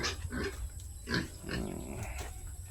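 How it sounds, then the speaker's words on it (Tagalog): A pregnant sow grunts and snorts repeatedly in low, rough bursts, fairly close, against a steady background hum, on a rural farm in the Philippines. "Inahing baboy namin."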